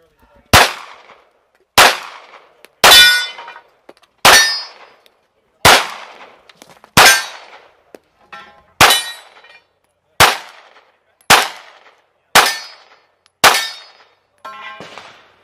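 Steel popper targets ring out at a practical shooting match, about a dozen sharp metallic clangs spaced a second or so apart, each loud and close with a short ringing decay, alone without talk.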